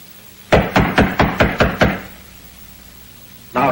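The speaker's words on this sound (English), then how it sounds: "I think I ought to knock loud." Loud knocking on a bedroom door: seven quick, evenly spaced raps in a single burst, then a pause and the start of another knock.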